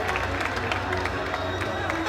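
Applause from an audience at a cosplay costume parade during a geek convention in Roanne, a steady wash of clapping and crowd noise sustained throughout, with faint tonal music or hum underneath.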